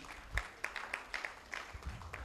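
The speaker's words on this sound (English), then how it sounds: "Give him another round of applause" An audience at a political party manifesto meeting gives a faint, thin round of applause, with a handful of scattered claps over a quiet room.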